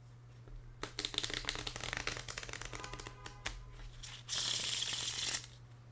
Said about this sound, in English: they shuffle like a dream